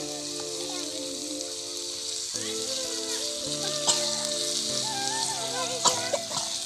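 Food sizzles and fries in a pan while a ladle stirs it in place of a spatula, with a steady hiss and occasional clinks and scrapes, under tonal background music at a children's mini picnic.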